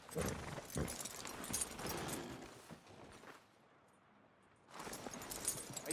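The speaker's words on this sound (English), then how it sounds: "Are you gonna mount that new horse of yours or not?" A horse in the Red Dead Redemption 2 video game clops along in a quick run of hoof beats, then goes briefly quiet before the hooves pick up again.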